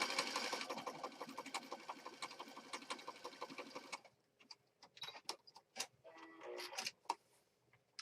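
A sewing machine stitches around a printed image on fabric for a junk journal, running in a fast, steady close-up whir for about four seconds, then stopping into scattered small clicks and handling taps.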